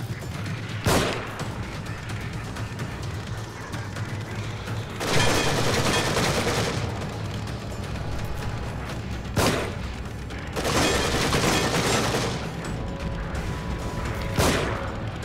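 Bursts of gunfire from the player's weapon in The Evil Within on PS4, with short loud volleys separated by quieter pauses, repeating several times with no voices.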